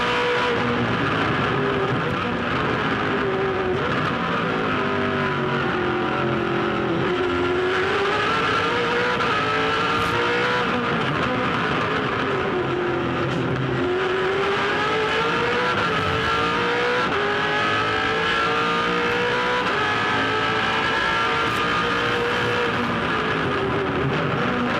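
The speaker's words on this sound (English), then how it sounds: "Let's go for a ride with Craig Lowndes." Onboard a 2007 V8 Supercar, the Team Vodafone 888 car racing the Gold Coast street circuit, engine roaring close and loud with rising and falling revs through gear changes, continuous throughout.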